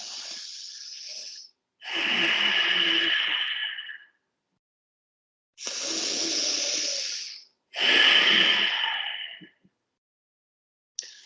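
Exaggerated yoga breathing: long, loud, airy inhales and exhales close to the mic, three or four drawn-out breaths separated by silent pauses.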